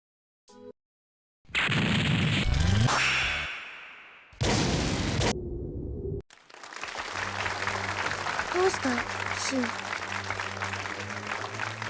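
Applause in the Amazing Grace video game, a dense, sustained patter of clapping that fills the latter half after a few abrupt, cut-off bursts of other game sounds and brief silences.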